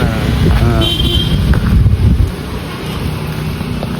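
Gusty wind rumbles and buffets the microphone in a steady low roar, with faint voices briefly audible early on.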